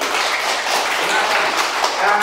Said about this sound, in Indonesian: mari kita beri tepuk tangan untuk teman